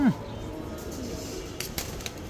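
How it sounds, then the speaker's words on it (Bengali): A male Jabra fantail pigeon gives a short, low coo right at the start, followed by quieter background rustling and faint clicks. "জাবরা পাঙ্খি নর"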